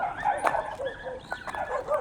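Several dogs bark and yip in short overlapping bursts at moderate distance outdoors, with a whimpering note mixed in and faint background noise throughout.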